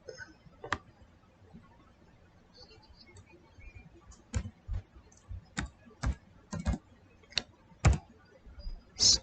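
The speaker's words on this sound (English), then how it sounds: "Let me see if I can type this up." Keystrokes on a computer keyboard, a quiet close run of separate clicks at an uneven pace, spaced out at first and then coming more steadily, with nothing else audible.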